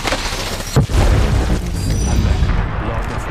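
Dense gunfire and booming explosions from the battle royale game Apex Legends roar continuously in a loud, heavy rumble, with one sharp blast near the start.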